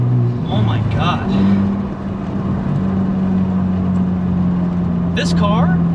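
A turbocharged car running around 10-12 pounds of boost drones with a steady engine tone that holds and slightly rises under people talking inside the cabin.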